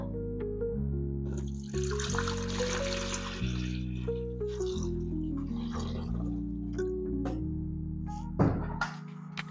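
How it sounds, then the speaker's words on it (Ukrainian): Water is poured into the tank of a Grunhelm GHF-40MD air humidifier, a steady trickling pour heard over background music. "Знімаємо кришечку і заливаємо всередину воду."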